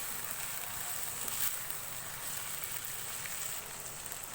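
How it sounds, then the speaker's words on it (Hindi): Chicken sears with garlic and ginger over a high flame, giving a soft, even sizzle like light rain that runs steadily throughout with no talking. "एक मिनट के लिए चिकन को लहसुन अदरक के साथ हाई फ्लेम पे अच्छी तरह से भून लेंगे।"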